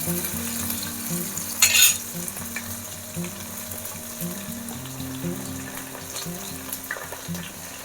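Paneer and soya chunk biryani masala frying in a pan while chopped mint is stirred in, a steady close sizzle with scraping stir strokes and one sharp burst of spatter near the start.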